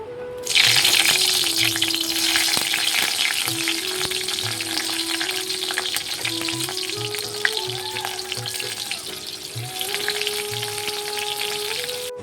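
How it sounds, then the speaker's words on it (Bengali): Cumin seeds and green chillies sizzle steadily in hot oil for pumpkin-leaf curry, a loud continuous frying crackle with occasional stirring knocks and a faint tap-like hiss throughout. "প্রথমে একটুখানি জিরে ফোড়ন দিয়েছি আর দিলাম কাঁচা লঙ্কা"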